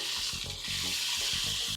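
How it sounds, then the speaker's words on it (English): Lamb chop lollipops sear in very hot oil in a pan, a steady close sizzle with soft crackles filling the short moment, no voices over it. "We're going to sear maybe a couple of minutes on each side"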